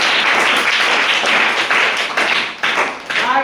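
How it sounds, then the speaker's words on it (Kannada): Loud, sustained applause from an audience at a Kannada school quiz programme, greeting the winners; dense, continuous clapping throughout with a few sharper claps near the end. "ಅವರಿಗೂ ಕೂಡ ಜೋರಾದ ಚಪ್ಪಾಳೆ"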